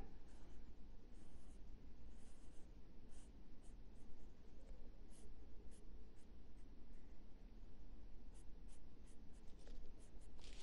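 A pen draws a normal distribution graph on paper, giving a faint, steady scratching that runs for about ten seconds with small strokes and pauses.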